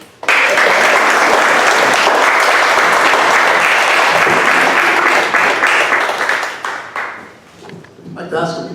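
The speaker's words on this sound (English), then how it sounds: "Another round of applause for everybody who's been here today." Audience applause at a human rights gathering on family separations, a dense, loud wash of clapping that holds steady for several seconds before thinning out, with a few voices rising near the end.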